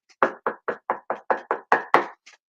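Someone knocks on a front door in a quick series of about nine firm, close raps at a steady rhythm, ending with a faint final tap and no talking.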